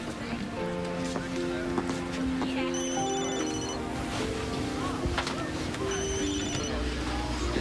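A phone rings in a series of tonal electronic chirps under ongoing music and background noise, with people talking around it.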